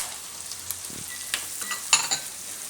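Carrots hit hot oil while pasta fried rice cooks, giving a steady soft sizzle with a few light clinks and stirring scrapes, moderately close and with no talking.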